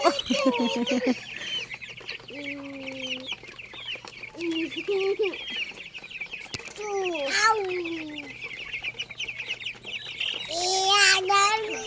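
23-day-old broiler chickens on a farm clucking and crowing in scattered bursts, mid-distance, with children's voices chattering over them.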